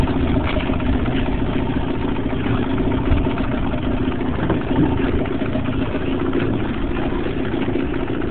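A motor idles steadily and loudly at close range, a continuous rumbling drone that holds even throughout with no revving and no one talking over it.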